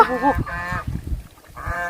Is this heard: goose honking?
yes